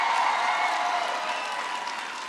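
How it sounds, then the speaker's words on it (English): Large crowd applauding at a high school rally in Elkhart, a dense, continuous roar of clapping with faint cheering, loud and sustained throughout. "Can everybody please give Kelly a big round of applause for the great introduction"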